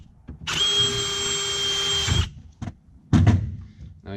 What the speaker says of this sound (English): You're going to go ahead and drill those.